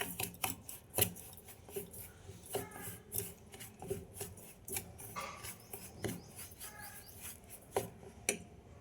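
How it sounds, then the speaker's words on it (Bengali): Pancake batter being mixed with yogurt in a bowl, with repeated close scraping and tapping strokes of a spoon against the sides in an uneven rhythm, fairly quiet and without talk. "এবার সব মিশিয়ে নেব আগে।"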